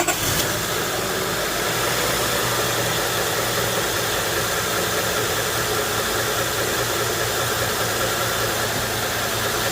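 A Honda 3.0L/3.5L engine runs steadily just after startup, a dense, constant close hum with no breaks and no talk.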